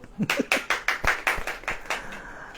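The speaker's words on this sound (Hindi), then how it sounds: "ताली बजा" A single person claps hands in a steady rhythm during a sermon, about ten sharp, close claps over two and a half seconds, with no talking.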